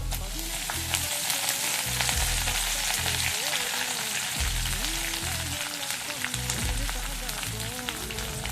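Black pepper and curry leaves crackle and fry steadily in hot oil for hotel-style Pollachi ven pongal, a dense, continuous sizzle with no voices.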